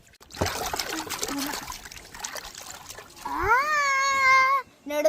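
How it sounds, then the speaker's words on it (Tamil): Water trickles and splashes in a close, uneven dribble as a plastic dinosaur toy from an excavation egg is rinsed, then a bright voice-like tone sweeps in over it before cutting off. "சரி, இப்ப நான் இதை வாஷ் பண்ணிடுறேன்."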